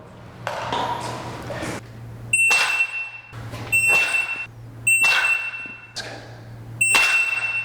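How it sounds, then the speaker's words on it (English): A shooting shot timer sounds repeated sharp electronic beeps, each followed by a burst of draw-and-fire activity, about five cycles at an even pace, close and clear in an indoor range. "Timer goes off."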